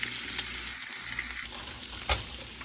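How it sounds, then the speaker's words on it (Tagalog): Garlic sautés in hot oil at the side of a pan for pork adobo, a steady close sizzle with a brief scrape or stir knock partway through. "So, igisa na natin yung bawang dito sa gilid."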